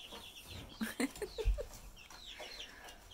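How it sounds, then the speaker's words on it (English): Backyard chickens with combs and new feathers growing in give several short soft clucks close by against quiet outdoor background noise. "Those are some handsome birds."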